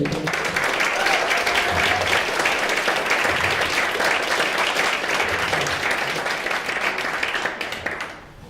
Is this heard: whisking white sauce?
no